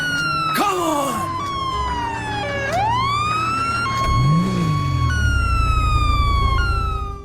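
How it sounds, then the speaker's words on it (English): A damaged police car siren in GTA 5, distorted after gunfire, cycles through broken wails that jump abruptly between pitches and restart, loud and close over a low vehicle rumble. "the sound gets distorted based on how much damage the siren takes"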